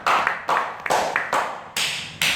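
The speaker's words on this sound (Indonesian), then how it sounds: "Tepuk tangan pemirsa" Applause after a correct answer on a quiz show, heard as several short bursts of clapping that start and stop in quick succession, close and fairly loud with no voices.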